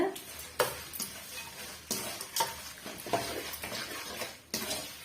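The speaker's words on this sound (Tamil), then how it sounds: "இப்போ ஒரு முறை நல்லா வந்து மிக்ஸ் பண்ணி விட்டுக்குங்க" A spoon scrapes and knocks against a pan while stirring a lemon rice seasoning mixture, with irregular sharp clinks over a faint sizzle, close and moderately quiet.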